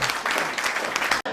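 Applause for Mike from an audience at a talk, a brief burst of dense, close clapping that cuts off abruptly near the end.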